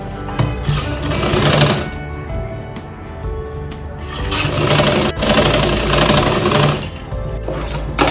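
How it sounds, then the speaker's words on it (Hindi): A sewing machine stitches a half sleeve onto a Diwali lehenga blouse. It is loud and close, running almost continuously in long stretches with only brief breaks, and no one speaks. "अब मैं उसकी आस्तीन की इसमें सिलाई लगा लूंगी।"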